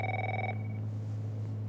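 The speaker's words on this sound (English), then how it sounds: "she wakes up to her phone doing the funny" A phone rings in The Last of Us, a short electronic ringtone tone that cuts off after about half a second, heard over a low steady hum of game ambience with no speech.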